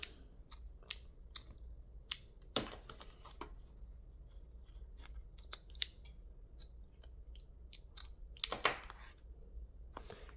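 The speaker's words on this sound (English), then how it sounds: "I'm going to cut my threads." Scissors snip sewing threads on a small scrap-fabric chapstick holder, giving a scatter of sharp, quiet clicks and cuts, with a couple of louder snips, in a still room.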